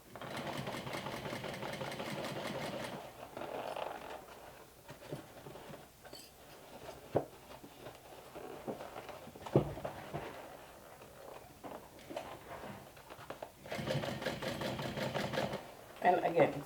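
A sewing machine stitches the crown of a mini top hat in two steady whirring runs at the start and end, with quieter handling sounds between them.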